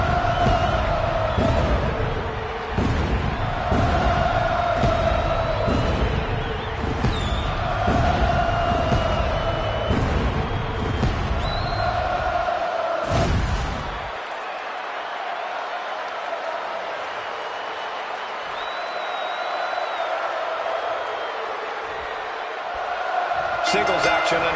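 Dense arena crowd noise in the WWE 2K25 wrestling game, a loud continuous roar with sharp slams and bangs that cuts off midway into a quieter hum, while commentators talk over it.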